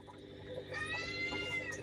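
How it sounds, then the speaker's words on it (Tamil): A cat meows in a drawn-out, wavering cry that rises and falls, fairly close, over a faint indoor background with no talking. "பூனை வருது இப்போ பாருப்பா"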